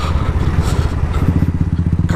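Motorbike on a commute ride in India, with a steady low engine drone and rhythmic pulsing rumble close up, plus wind noise throughout.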